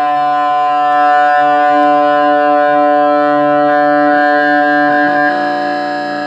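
Sustained electric guitar feedback from a single string while the others are muted, a steady loud droning tone with rich stacked harmonics that swells slightly and shifts pitch briefly near the end, no talking.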